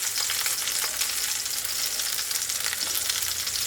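Lamb shanks browning in hot oil in a pan give a steady, close crackling sizzle that stays even throughout, with no one speaking.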